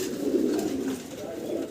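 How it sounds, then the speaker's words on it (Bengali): Nuremberg lark pigeons at a pigeon farm give a steady, close, low cooing murmur that swells slightly and fades out within two seconds. "নুরানবার্গ লার্ক কবুতর দেখতেছি আমরা"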